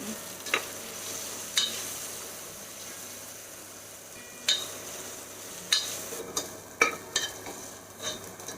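Onions sautéing in a pan with ginger garlic paste give a soft, steady sizzle, broken by several sharp scraping stirs and clinks of a spatula, quiet and close with no talking.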